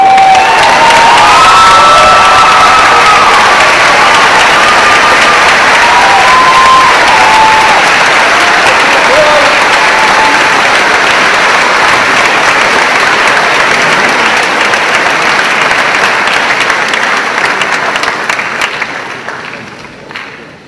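A large school audience applauds at an awards assembly, loud sustained clapping with some cheering and children's shouts, holding steady before fading out near the end.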